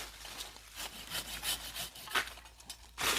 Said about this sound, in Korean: 그래서 옆가지를 한두 개 덜어내겠습니다.